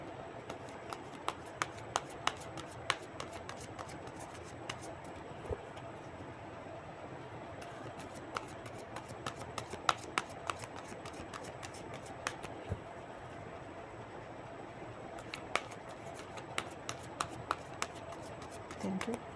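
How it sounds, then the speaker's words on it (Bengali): Cards being drawn from a deck, quiet scattered flicks and light snaps spread over a low room hiss, with faint sparse clicks throughout. "এই ডেকের থেকে দুটো কার্ড নিয়ে দেখি।"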